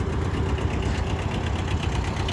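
A Kubota Ultra B10 mini tractor with a 900 mm rotary tiller sits idling, its small engine putting out a steady, close, uniform mechanical rumble with a faint knocking pulse throughout and no voices.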